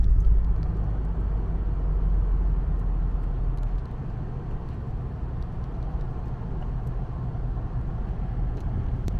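A car drives through heavy afternoon traffic, with a steady low engine and road rumble throughout and no talking.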